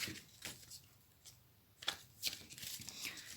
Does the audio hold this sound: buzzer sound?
no